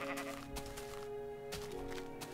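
A sheep in the Minecraft video game gives a couple of short, nasal, wavering bleats over a low background hum, with no talking.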